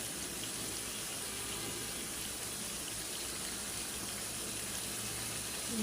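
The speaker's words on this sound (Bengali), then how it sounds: "ব্লেন্ডারে যে মশলার পানিটা এটা দিয়ে দিলাম।" Blended spice water poured from a blender jar into a pot of simmering chicken curry, a soft continuous splashing stream that holds steady from start to finish.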